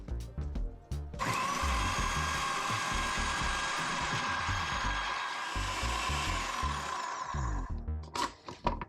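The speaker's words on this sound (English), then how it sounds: "Now we're gonna blend this until it's smooth" Food processor blending a falafel mixture, a loud continuous motor whir with coarse churning and rattling as the contents spin, running steadily for about seven seconds before cutting off into a few clunks, close up with no talking.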